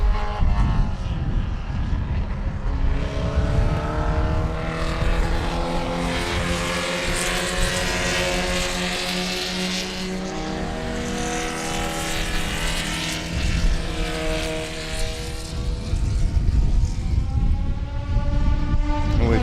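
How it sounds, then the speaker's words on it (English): Open-wheel race cars screaming around the track at Sebring in a short sprint race, loud high-revving engines rising and falling as cars pass in a continuous, overlapping roar. "So there go your open wheelers, and those guys are having at it."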